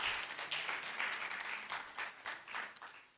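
A conference audience claps in a soft, uneven burst, individual claps standing out as the applause swells and thins over roughly three seconds.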